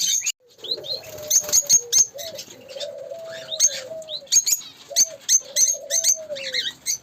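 Laughing doves in a home aviary give soft, repeated low coos, close by and clear, while higher small-bird chirps and tweets from nearby cages flicker over them throughout.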